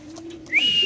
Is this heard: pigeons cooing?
yes